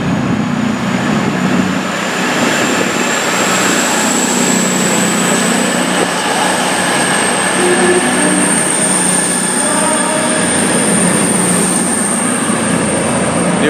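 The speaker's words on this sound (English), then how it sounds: "this is our train leaving Derby now, that we've just got off." A train pulls out of Derby station with a steady rolling rumble and a long high wheel squeal that rises slightly in pitch, loud and continuous throughout.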